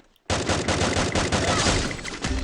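Automatic gunfire in the Free Fire battle royale game starts abruptly after a brief quiet moment, then continues as a loud, dense, continuous stream of rapid shots until the end.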